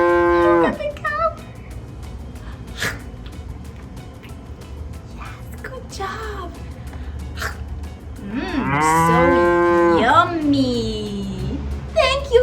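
A cow moos on a farm, a loud drawn-out low call that swells late in the clip, while an adult talks to toddlers earlier over steady outdoor background noise.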